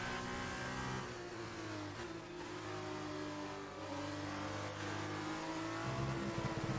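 A Formula 1 car in the F1 2019 racing game roars at high revs, its engine note holding steady and shifting pitch as the driver changes gear, loud and continuous throughout.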